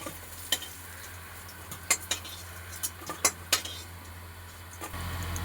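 Fried soybean fritters are lifted one by one from hot oil in a pan, a faint steady sizzle broken by a few sharp spoon-and-pan clinks.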